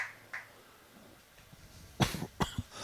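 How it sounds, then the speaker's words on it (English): A commentator at a lawn bowls event coughs twice near the end, close and loud, after a quiet stretch of background noise. "I just cannot get rid of this cough."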